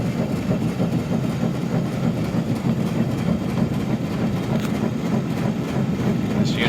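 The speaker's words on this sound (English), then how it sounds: "You can see the gears turning in there." A rebuilt Dodder Mill Model 52 with reconditioned, newly felted rolls runs steadily, giving a dense, continuous mechanical rumble with faint rhythmic clatter from its turning gears, close and unbroken.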